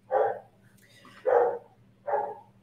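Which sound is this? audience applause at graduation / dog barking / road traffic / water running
dog barking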